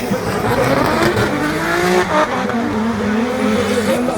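Drift cars at Bella Park in Ireland howl with loud, sustained engine revs and wavering pitch, with tyre squeal and skidding mixed in as they slide close by, almost continuous for several seconds.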